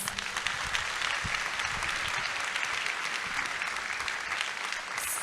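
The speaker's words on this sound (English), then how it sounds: "Can we give them another round of applause?" Graduation audience applauding at an adult education ceremony, steady dense clapping from a large crowd throughout, fairly distant and even in level.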